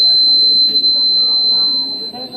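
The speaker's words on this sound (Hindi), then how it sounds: "अलार्म तो बज रहा है" An electric alarm buzzer on a school science exhibition model sounds as a steady, loud high-pitched tone running through the whole stretch, with people talking beneath it.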